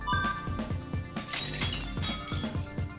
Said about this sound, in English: The sound of glass breaking.